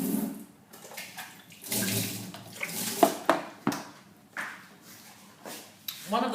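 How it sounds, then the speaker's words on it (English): Hands washed under a running kitchen tap, splashing water in irregular bursts with brief clinks, close and moderately loud, with no talk. "I wash my hands."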